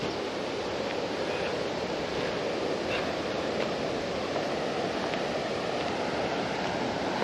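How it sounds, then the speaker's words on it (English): Telegraph Creek runs steadily past a small settlement, a constant full rushing wash of water with no breaks, heard close and moderately loud. "this creek you can hear running is Telegraph Creek."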